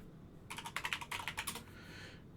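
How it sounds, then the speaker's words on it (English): Quick bursts of keystrokes on a computer keyboard, typed while logging in over SSH to a Raspberry Pi, form an uneven run of crisp clicks in a short flurry, close and alone in a quiet room. "If I didn't lag out while I was typing it in."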